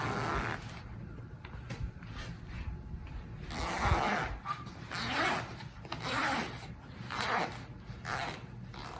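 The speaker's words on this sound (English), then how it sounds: "So now that we have both sides basted, we just separate the zipper" A zipper on a handmade box cushion cover for a van, basted on both sides, is pulled apart in a series of rasping, scraping strokes at close range with short pauses between, and no one talks.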